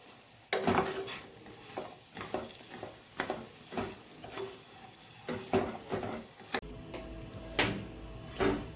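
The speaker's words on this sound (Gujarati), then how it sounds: "સાવ ધીમા ગેસ ઉપર ખજૂરને આપણે શેકશું" Pitted dates roasting in ghee on a very low flame for winter date and sesame laddoos: quiet, intermittent spatula scrapes and soft knocks against the pan over a faint low sizzle, with no talk.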